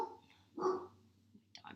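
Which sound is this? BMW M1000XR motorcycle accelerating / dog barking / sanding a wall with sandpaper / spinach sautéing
dog barking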